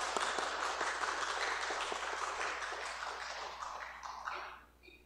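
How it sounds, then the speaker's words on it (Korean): Church congregation at a Sunday worship service claps in steady, broad applause that holds for several seconds and then tapers off toward the end, with no talking over it. "우리 다시 한번 감사의 박수 드릴까요?"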